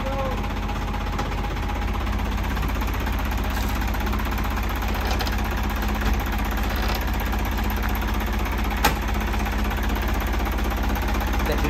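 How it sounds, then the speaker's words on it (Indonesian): A Qintel vehicle's engine idles with the cabin opened, giving a steady, even rumble and vibration that stays constant throughout at moderate loudness. "Bisa dilihat Remisa, suara mesinnya dan kondisi mesinnya juga masih bersih"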